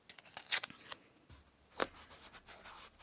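Tape is torn and pressed down over split pins on a handmade junk journal, giving a few short, close, crisp ripping and rubbing sounds with quiet pauses between.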